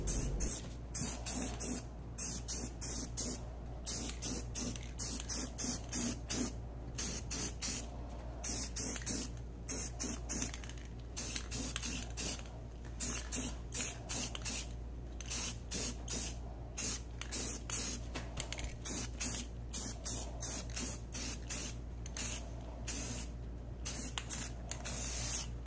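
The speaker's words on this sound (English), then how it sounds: "You want to make sure you keep continuously moving the can while applying it into every area you can." Rust-Oleum spray paint hissing from an aerosol can onto vintage Ronal wheel rims, a close, steady spray broken into rapid short bursts as the can keeps moving.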